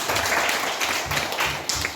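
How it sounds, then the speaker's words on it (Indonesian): Applause from students in a classroom, a steady patter of many hands clapping close by for the full two seconds, with a few sharper claps standing out near the end. "tepuk tangan untuk kalian"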